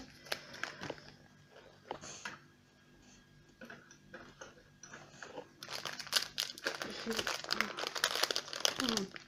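A parcel's packaging crinkles and rustles as it is opened, with scattered ticks and crunches at first that swell into dense, louder crinkling near the end, while a person talks over it.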